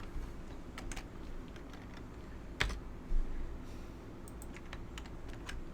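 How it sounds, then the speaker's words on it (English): Typing on an unusually large computer keyboard gives soft, scattered key clicks with a few louder taps, close up over a steady low room hum, with no talking. "I'm not used to this massive thing of a keyboard."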